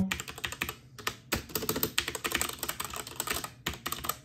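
Rapid typing on a SteelSeries Apex 7 mechanical keyboard with brown switches, dense clacking keystrokes with brief pauses, close and crisp.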